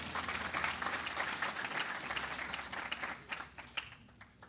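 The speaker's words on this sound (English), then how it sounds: "That deserves a round of applause." Sustained audience applause fills a hall at an inauguration ceremony for a senator, dense and steady before thinning into scattered claps near the end.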